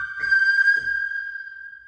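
An electronic keyboard set to a piccolo voice, imitating a whistle, plays a short melody phrase: two clear, bright tones followed by one long, pure, sustained note that slowly fades, loud and close with nothing else heard.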